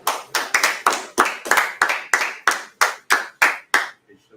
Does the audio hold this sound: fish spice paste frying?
no